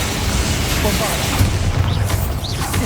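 A Bombarda spell blasts in Hogwarts Legacy, a dense booming rumble that stays loud and continuous for a few seconds amid game effects, with voices heard over it.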